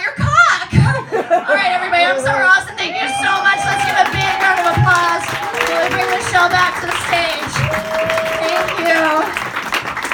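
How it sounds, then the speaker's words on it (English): A comedy club crowd at Zanies claps and cheers at the end of a stand-up set. The sustained applause runs loud throughout, with a voice speaking over it and a few scattered laughs. "Let's give a big round of applause."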